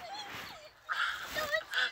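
A voice squawks and shrieks in short bursts, imitating a chicken, rising and falling in pitch.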